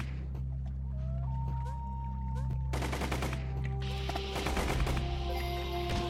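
Rapid spread-gun fire from the video game Operation Hardcore, with bursts of sharp electronic shots that crowd together over game music and effects in the second half.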